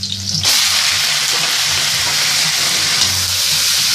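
Garlic and Chinese kale hit hot oil for an oyster-sauce stir-fry, bursting into a loud, close, continuous sizzle that starts abruptly and holds steady, with no talking.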